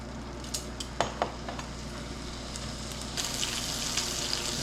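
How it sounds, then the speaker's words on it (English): Bacon frying in a pan, a steady close crackling sizzle with occasional sharp pops and light utensil taps, the spatter growing busier toward the end, no talking. "Now we got our bacon going or frying."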